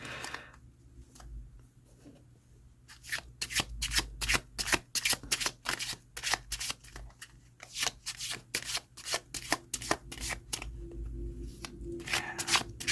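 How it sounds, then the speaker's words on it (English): Tea leaf reading cards, thin deck, shuffled by hand in rapid riffling bursts, close and crisp, with short pauses between rounds and no talking. "so I'm going to shuffle them like so"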